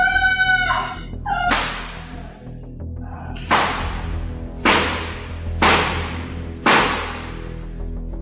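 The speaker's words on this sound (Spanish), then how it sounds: "Y luego los disparos" Several sharp, loud gunshot-like cracks ring out, about one per second, each with a short decaying tail, after a brief high-pitched tone at the start.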